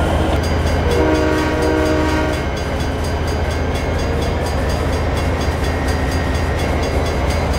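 A train rolls along steadily in Rails of Highland Valley, with a drawn-out horn blast near the start over the continuous rumble and clatter of the cars.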